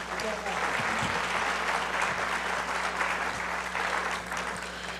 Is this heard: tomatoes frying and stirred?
no